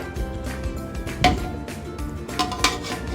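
Biryani being stirred and mixed in a cooking pot, with repeated scraping and clinking of a spoon against the metal, moderately loud and close, with a few sharper knocks.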